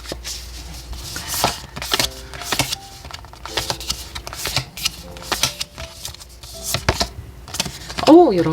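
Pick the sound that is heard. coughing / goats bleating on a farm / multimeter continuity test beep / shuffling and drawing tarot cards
shuffling and drawing tarot cards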